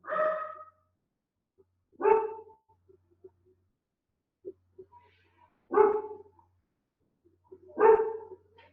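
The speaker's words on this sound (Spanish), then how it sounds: "No sé si se escucha de fondo el perro que más hincha." A dog barks four times in a quiet setting, single loud woofs spaced a couple of seconds apart, with faint small noises in between.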